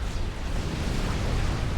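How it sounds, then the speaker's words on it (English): Heavy long-range cannon fire from a Salem class destroyer in the strategy game Forged Alliance, a dense, continuous booming rumble of explosions with no break and no talk over it. "These powerful long-range cannons."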